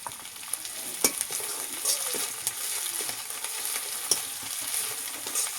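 Spices fry in a pan with dried chili paste, giving a continuous loud hissing sizzle near at hand, broken by a few sharp utensil taps as the mixture is stirred.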